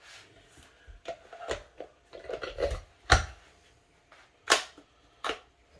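A Glock 34 pistol handled up close as its chamber is checked: sharp metallic clacks of the slide racking back and snapping forward, a few distinct loud clicks among softer handling noises, with no talking.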